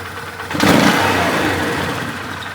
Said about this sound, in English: Now you can hear the tranny whining because I gave it a bit of gas there